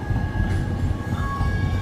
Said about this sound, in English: The metro!